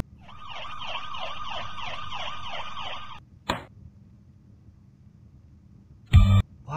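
Ambulance siren from the Stickman Jailbreak Escape 2 video game, a steady wailing rise-and-fall siren for about three seconds, then a short burst and a loud thump near the end.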